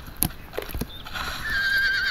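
In the online horse game Alicia Online, a horse gives a loud, close whinny alongside a few clip-clopping hoof strikes, with a steady tonal background sound continuing beneath.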